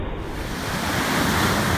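Ocean waves at Point Lonsdale roar in a steady, dense wash of surf, loud and continuous, with wind rushing across the microphone and no voices.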